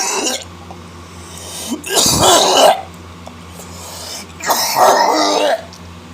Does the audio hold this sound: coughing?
yes